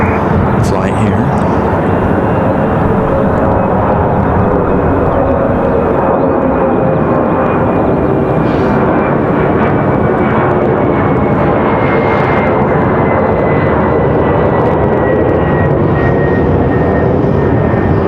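Jet airliner engines rumble and roar at Raleigh-Durham International Airport, a loud, continuous low drone with a slowly shifting whine, heard from nearby on the airfield under a speaking voice.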